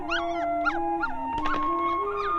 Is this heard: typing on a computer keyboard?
no